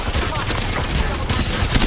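Gunfire in the battle royale shooter Apex Legends, a dense rapid volley of loud shots running continuously, close and harsh, with a brief voice faintly under it.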